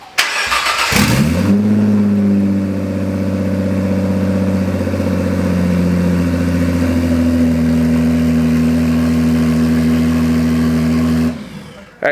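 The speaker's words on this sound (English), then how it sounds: "you guys saw the GTR is finally running" A rebuilt Nissan GTR engine cranks and catches with a loud burst, then settles into a steady, close, droning idle for about ten seconds before cutting off.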